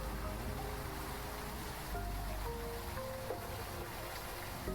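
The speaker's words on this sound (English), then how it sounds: "you can see the raining down here, and you can hear it" Steady rain falls in the video game Critter Cove, a constant dense wash of noise with faint tonal game sounds layered over it and no one talking.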